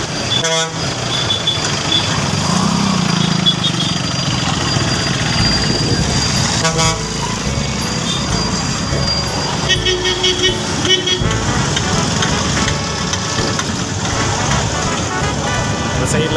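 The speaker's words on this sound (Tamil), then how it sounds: "சந்தைக்குள்ளேயே போயிடலாமா? வண்டி வருதுன்னு பாரு." Vehicles moving through a busy open-air market, loud engine rumble and repeated horn honks over crowd murmur and nearby voices, with the traffic passing close.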